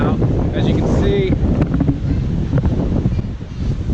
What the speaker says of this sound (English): the water's a little rough.